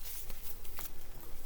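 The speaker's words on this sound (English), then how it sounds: "Just a couple more shuffles here" Tarot cards riffled and shuffled by hand, a quick series of papery flutters and soft slaps close by, with no talking.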